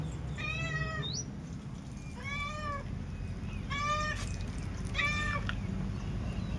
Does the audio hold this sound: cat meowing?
yes